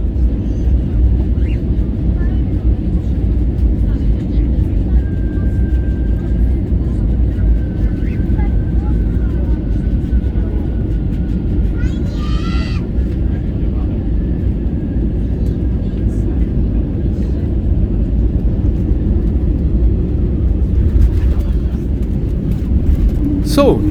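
Steady, unbroken roar fills the cabin of a Turkish Airlines A321neo in flight between Istanbul and Cologne, a loud, even engine and airflow drone with no breaks.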